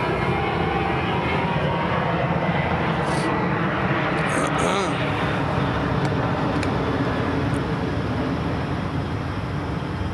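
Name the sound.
airplane flying overhead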